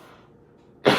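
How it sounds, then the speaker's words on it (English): A single sharp cough from chilly outdoor weather bursts out close and loud after near silence. "which means that I cough when it's chilly outside"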